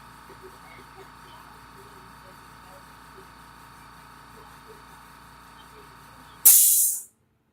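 Foamy toilet cleaner sprayed in one short, loud hissing burst at the end, after a quiet stretch of faint background noise.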